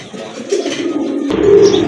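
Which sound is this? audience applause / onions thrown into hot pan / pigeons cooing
pigeons cooing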